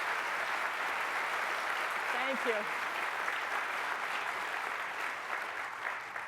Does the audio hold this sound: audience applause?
yes